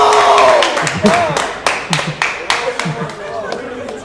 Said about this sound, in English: Pittsburgh Steeler fans, give me a round of applause